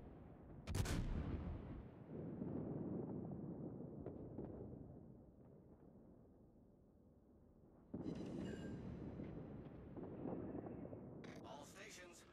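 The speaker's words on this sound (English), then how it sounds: "All stations requesting fire on the designated target." Naval artillery fire in the warship battle game World of Warships, a heavy booming shot followed by a long rumbling decay, then a second blast and more rumbling, under game voice chatter.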